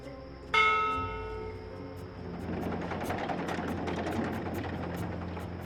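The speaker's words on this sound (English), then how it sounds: "this is a ship's bell. They use this to signal the crew when a load of cargo's ready to be hoisted up" A ship's bell aboard a cloud ship in Dreamfall Chapters gives one loud, clear strike that rings out and slowly decays, followed by a low engine-like rumble and scattered faint clicks.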